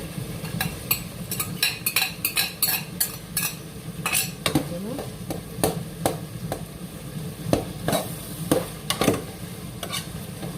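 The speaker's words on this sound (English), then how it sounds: "And I'm going to throw in my saltfish." Saltfish and cabbage cooking together in a pan, with a steady sizzle under repeated sharp scrapes and clinks of a utensil stirring against the pan.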